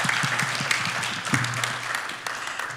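Audience applause at a panel talk on sustainable shipping practices, a steady round of clapping from a crowd with sharper individual claps standing out, heard alone without speech.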